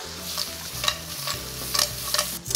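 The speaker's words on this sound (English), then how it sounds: "Just put in the pasta to the dish. From here, what you do is just toss slightly." Linguine tossed in a pan with clams and seafood sambal sauce, sizzling under repeated scraping and clattering tosses of utensil against pan, no talking.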